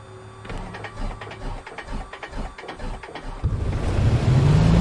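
An aircraft engine cranks with rapid rhythmic chugging, then catches and builds into a loud, steady roar that keeps rising, close and dominant, with no talk.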